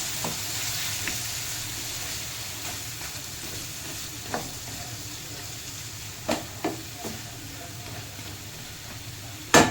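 Food fries in a pan with a steady sizzle and hiss while a spatula stirs it, scraping now and then in a few distinct clacks against the pan.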